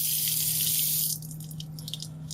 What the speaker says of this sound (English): I'm just gonna turn off the water aspirator